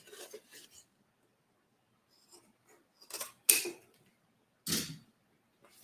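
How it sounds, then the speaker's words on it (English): Scissors trim the seam allowance on Italian leather in a few short, separate snips and crisp cuts with quiet pauses between them, fairly close and moderately loud, with two sharper bursts standing out. "Now I am going to just cut these back a little bit, trim this seam allowance down."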